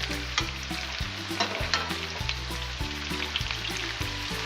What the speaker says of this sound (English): So once they become crispy, you just turn them around with the spatula or some type of utensil like this.